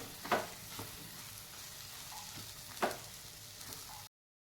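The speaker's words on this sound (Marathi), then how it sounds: "आता वरतून आपल्याला टाकायचं आहे त्यामध्ये थोडंसं किसलेलं खोबरं आणि हे सर्व छान मिक्स करून घ्यायचं आहे" A spoon stirs grated coconut into a bottle gourd masala in a pan, with two distinct scraping strokes and light clinks over a faint, steady sizzle.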